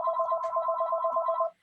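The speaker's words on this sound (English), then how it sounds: "Sorry about the phone." A telephone rings indoors during a talk, a rapid warbling electronic trill repeating steadily for about a second and a half before cutting off.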